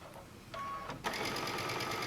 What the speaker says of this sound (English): I'm not used to sewing with the foot control